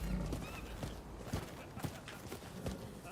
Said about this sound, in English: You can call your horse.